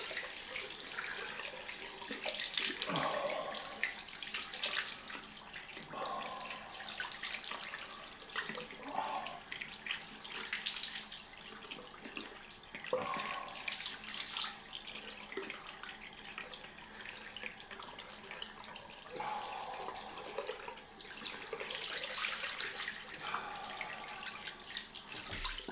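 Water runs from a tap for a cold rinse after a shave, giving a fairly faint, continuous splashing flow with uneven surges as it hits hands and the sink.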